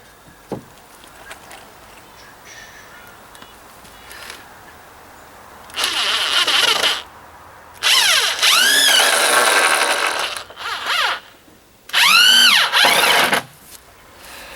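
A power drill boring pilot holes in the ends of deck boards, several bursts of whining motor that rises and falls in pitch as the bit works into the wood, close by, with quiet gaps between holes.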